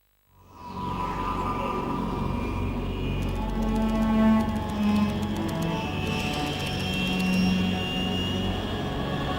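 Jet aircraft engine in flight at 30,000 feet over the Arctic Ocean in Metal Gear Solid 3 swells in from silence to a steady, loud, sustained roar with a whining tone, holding throughout.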